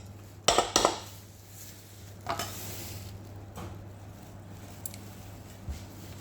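A spoon stirs a cream cheese mixture in a bowl for a blueberry cheesecake, making a few sharp scraping clatters early on, then softer scattered strokes over a low steady hum.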